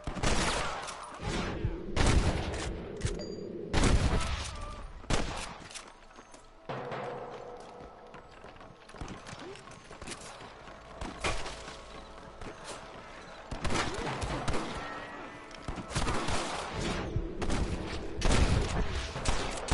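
Rapid bursts of video game gunfire crack repeatedly, loud and close, with dense volleys separated by brief lulls and faint clattering in between.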